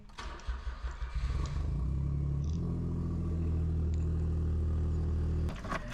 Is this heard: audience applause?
no